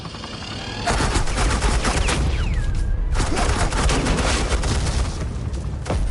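Sustained suppressing gunfire from the video game Batman: The Enemy Within, a dense, loud burst of rapid shots that starts abruptly and rolls on for several seconds, with no talking over it.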